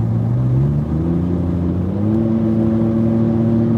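A Ford F150 twin turbo truck accelerating under boost, its engine note climbing steadily in pitch as it pulls hard, loud and close with a continuous droning hum.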